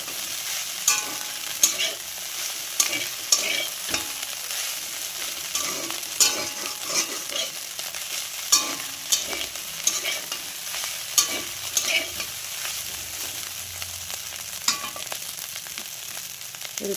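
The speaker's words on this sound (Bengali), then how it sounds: "আবারও ভালো করে নেড়ে চেড়ে নেব।" Pasta frying in a pan with a steady sizzle and repeated scraping, clinking stirs of a spoon against the pan, close and continuous with no talking.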